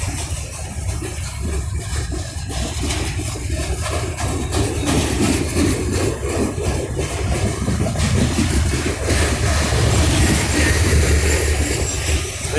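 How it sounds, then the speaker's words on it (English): A CSX freight train of ballast hoppers rolls past steadily, one car carrying a flat wheel, producing a continuous loud rumble and clatter of wheels on rail that builds slightly toward the end, close by with no talk. "Oh, that one's got a bad flat wheel."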